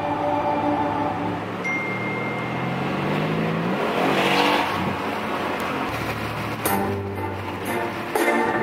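Car traffic heard from inside a vehicle stuck in a slow jam, a steady low engine and road rumble with a passing vehicle's swell and faint clicks, no talking.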